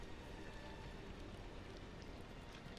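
Steady rain ambience from the video game Nier Replicant, a soft continuous hiss of falling drops that stays even and quiet throughout, with no voices.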